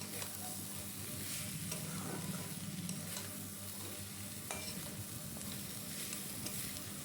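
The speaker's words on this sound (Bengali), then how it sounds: "চিকেনটা দিয়ে আবারও সব কিছুর সাথে এটাকে ভালো করে মিক্সড করে নিচ্ছি।" Shredded chicken filling for mini chicken patties being stirred and mixed in a frying pan, with a steady sizzle and repeated scraping strokes of the spatula, close and continuous, without speech.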